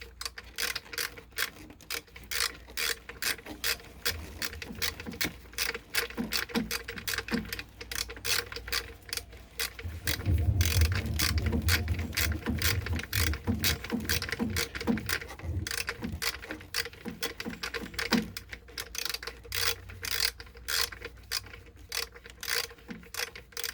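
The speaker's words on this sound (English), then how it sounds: "put my ratchet on, and I'll tighten this bottom one first" A ratchet tightens a spark plug on a 2009 Infiniti G37x, giving long runs of rapid, close metallic clicks with a brief louder, denser stretch midway. No one speaks.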